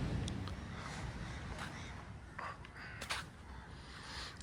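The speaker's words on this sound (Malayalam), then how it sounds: "കാക്ക അങ്ങനെയുള്ള പക്ഷികളെല്ലാം കരയുന്ന ഒച്ച നമുക്ക് ബീച്ചിൽ കൂടെ നടക്കുമ്പോൾ കേൾക്കാൻ." Crows caw repeatedly on Kappad Beach in Kozhikode in the morning, sharp calls scattered over a steady wash of surf and open-air background, some calls nearer and louder than others, with no voices.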